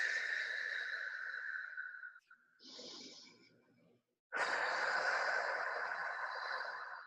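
Slow, deep breaths during a guided meditation, a long airy exhale followed by a softer inhale, then another long breath out, close and steady with no talking.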